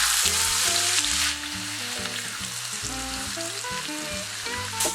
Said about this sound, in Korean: 오일이 어느 정도 달아오르면 다진 마늘을 넣어주세요.